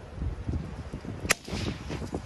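A single sharp, close crack from a Bergara BMR Steel .22LR rifle fired at a target 25 yards away, with a steady low background hum before and after the shot.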